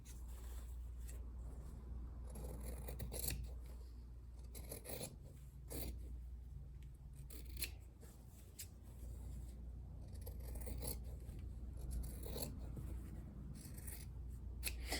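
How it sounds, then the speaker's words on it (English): Scissors snip and rasp through quilt backing fabric and batting in repeated close-up cuts, an uneven rhythm of crisp slicing strokes over a quiet low hum. "I'm gonna trim away my backing fabric. You can use your rotary cutter if you want. I'm just gonna use my scissors"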